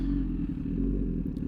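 A custom Honda CBR1000RR with an SC Project exhaust idles with a deep, steady rumble close by, its low engine drone filling the whole moment without talk.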